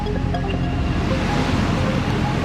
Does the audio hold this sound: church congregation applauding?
no